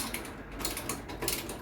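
A hand tool tightens the caliper bolts on a Suzuki GSX-R 600/750 brake in a few quick ratcheting clicks, close and fairly quiet, with light mechanical creaks in between.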